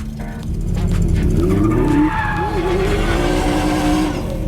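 Classic cars on a parade lap at Silverstone circuit, a loud continuous engine roar with rising and falling revs and some tire squeal as vehicles pass close by.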